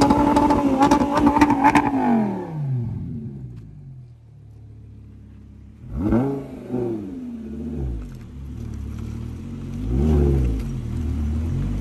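An Audi R8 engine revs loudly and burbles after a launch-control start, a sustained roar fading to a low idle rumble, then several sharp throttle blips follow at close range.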